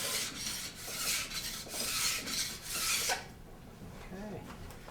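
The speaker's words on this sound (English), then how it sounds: "When we're using a file, it tears at the metal and it makes a lot of striations or burrs that are hanging off the edge." A metal file rasps along the steel edge of an alpine ski in several loud, close back-and-forth strokes, each a harsh scraping burst, before it stops and leaves a quieter background.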